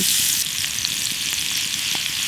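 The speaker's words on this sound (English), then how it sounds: "Listen to that sizzle." Constant crackling sizzle of chicken frying on a hot campfire grill by a river, a dense hiss with small pops, close and steady throughout.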